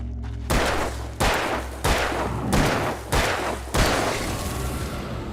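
Gunfire in the Alan Wake video game: six heavy, booming shots spaced roughly half a second to a second apart, each with a sharp attack and a lingering rumbling tail, loud and close.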